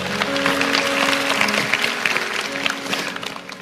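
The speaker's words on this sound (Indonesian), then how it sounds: "kasih tepuk tangan untuk Tuhan" A church congregation applauds together in a steady, dense wash of clapping that lasts throughout, with faint sustained tones from music or an organ beneath it.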